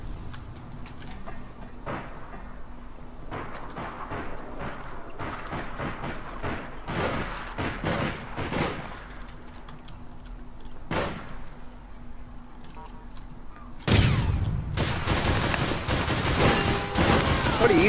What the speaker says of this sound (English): Trying to fucking shoot that guy.